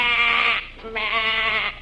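Two long bleats from a sheep aboard a cattle ship, loud and close, with a short gap between them. The second call is slightly weaker than the first, and no one speaks.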